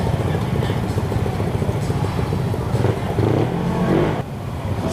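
A motorcycle engine revs steadily during an endurance challenge, a loud, continuous throbbing drone up close with slight surges in pitch before it drops off near the end.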